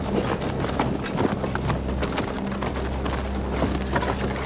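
Horses' hooves clip-clop steadily on hard ground in a dramatic rural confrontation scene, a dense rhythmic clatter of several animals running through the whole stretch, with faint mechanical jingling of tack underneath.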